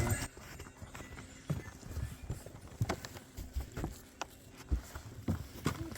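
Two mules pulling an open sleigh, their hooves clip-clopping in a steady, fairly close walking rhythm over constant outdoor background noise, with some faint voices.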